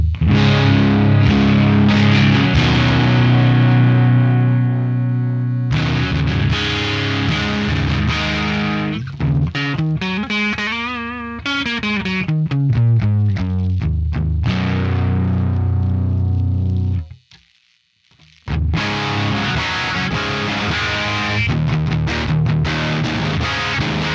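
An electric guitar on the neck pickup plays through an Axe Fx III Marshall JMT45 amp model driven hard, giving a warm, saturated power-amp distortion with sustained chords, bending melodic runs and a brief pause before loud strumming resumes.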